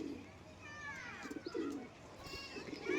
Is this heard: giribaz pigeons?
yes